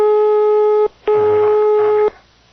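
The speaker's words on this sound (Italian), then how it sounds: "ci vuole sempre molto prima che arrivi lo squillo" A telephone line tone plays while a call waits to ring: two steady, loud electronic beeps about a second each with a short gap between, then the tone cuts off.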